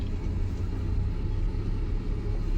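A car's engine rumbles steadily and close by as a learner driver slowly reverses it during parking practice, with a constant low drone throughout and no talking.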